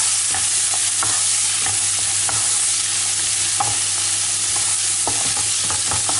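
Onions sautéing in oil with salt for karnıyarık, a continuous loud sizzle broken by scraping clicks of stirring, close up with no voices.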